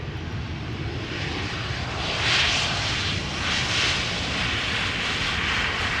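An Airbus A380 landing at Amsterdam Schiphol Airport gives a broad, steady jet roar that swells slightly midway, heard at a moderate distance with no voices.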